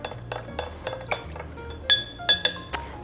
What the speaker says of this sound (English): I'm gonna go ahead and just give this a quick little stir